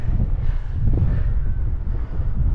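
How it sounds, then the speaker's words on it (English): Strong wind buffeting a microphone while cycling near Bollington, a steady low roaring rush that fills the short stretch, loud and close with no talk. "Yeah, because it was so windy."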